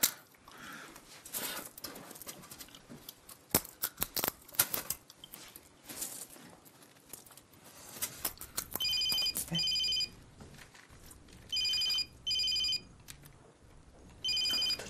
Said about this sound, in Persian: زنگ موبایل منه